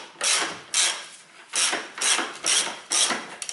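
A ratchet wrench works a battery hold-down bolt on a Toyota Avensis, giving repeated bursts of close, crisp clicking in an uneven back-and-forth rhythm with short pauses between strokes.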